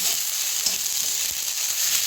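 Onion, ginger and garlic frying in a pan for a mixed-vegetable labra, a steady close sizzle with faint crackles and an occasional soft stir, no voices.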